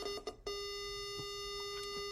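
A buzzer on a homemade MIDI instrument gives a steady electronic tone, sounding continuously after a few short stuttering beeps at the start, fairly quiet and alone.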